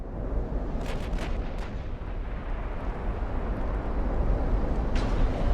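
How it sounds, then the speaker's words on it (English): Battlecruiser gun barrels fire in the naval game Ultimate Admiral: Dreadnoughts, a continuous loud roar of overlapping blasts and rumble with a few sharp cracks near the start and end. "Let's go ahead and turn and get the other barrels firing."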